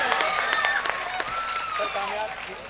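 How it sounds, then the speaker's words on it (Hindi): Audience applause for a comic poet at a Hindi hasya kavi sammelan, loud close clapping mixed with cheering voices and shouts, dense and continuous across the clip. "एक मतलब जोरदार तालियां।"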